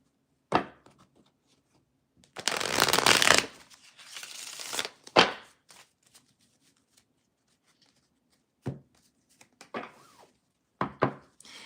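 Tarot cards shuffled by hand, close and fairly quiet: a long riffling burst near the middle, with shorter shuffles and taps before and after, separated by near silence and no talking.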